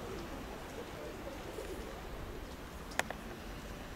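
Pigeons coo faintly in an outdoor loft setting amid steady low background noise, with a brief sharp click near the end.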